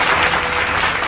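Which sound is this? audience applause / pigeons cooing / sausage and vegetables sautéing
audience applause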